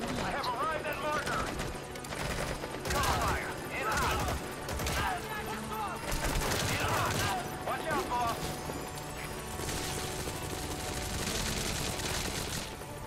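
Rapid bursts of gunfire aimed at a helicopter in the video game Metal Gear Solid V: The Phantom Pain, sustained and loud through most of the stretch, with game voices and effects mixed in.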